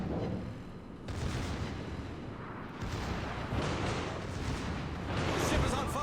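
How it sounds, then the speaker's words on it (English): Warship main battery salvo with secondary guns firing in a naval video game: heavy booming blasts in several waves, dense rumbling bursts that swell and overlap for several seconds. "A nice AK salvo plus the secondaries going off on it."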